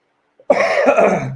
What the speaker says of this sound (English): I'm still having a cough from the climate there in Thailand